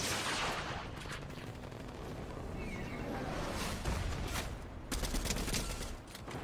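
Rocket launcher and gunfire in a Fortnite no-build tournament match, a dense run of blasts and cracks over roaring game noise, with sharper booms near the end.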